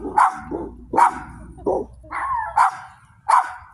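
Two dogs barking outdoors at night near a bonfire, five or six sharp barks coming in a loose irregular rhythm from nearby, with short quiet gaps between them.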